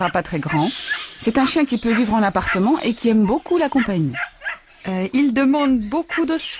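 An American cocker spaniel puppy barks and yips repeatedly in short, high bursts, close by, while a person talks over it.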